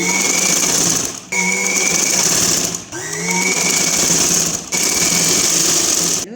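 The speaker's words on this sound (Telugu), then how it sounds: "మనం ముందు ఎలా స్టిచ్చింగ్ చేసామో సేమ్ అలాగే స్టిచ్చింగ్ చేస్తున్నాను." A sewing machine stitches an umbrella long frock in loud, close bursts, with four runs of steady whirring separated by brief pauses.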